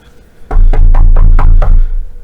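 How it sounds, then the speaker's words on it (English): Six loud, evenly spaced knocks on a door, close and heavy with a deep thud under each rap, heard alone with no talking. "It sounds like somebody's at the door."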